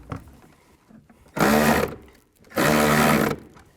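Two loud bursts of whirring from a power ratchet or impact tool spinning off nuts with a 13mm socket on a 2004-2010 BMW X3 rear shock mount, each lasting about a second, close up.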